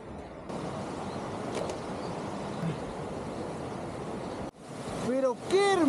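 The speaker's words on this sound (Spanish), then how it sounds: "Pero qué hermosa caída de agua." Broadband rushing of the Quero waterfall in Jauja, Junín, Peru fills the scene steadily, then dips briefly before voices break in near the end.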